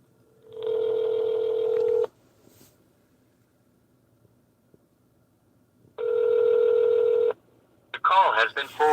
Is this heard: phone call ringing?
yes